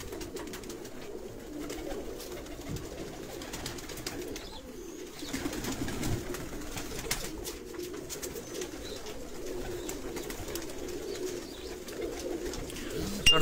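Choisa breed pigeon pairs coo in a loft, soft low repeated cooing near and far over a steady murmur of background noise, with faint chirps and no clear talk.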